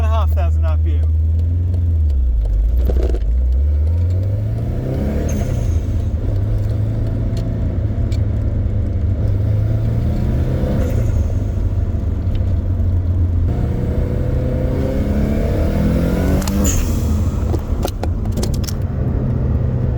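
A 1995 Subaru WRX GC8 engine idles as a steady low drone, then revs up toward 2,500 RPM and settles back down, a continuous loud rumble throughout with faint voices in the background.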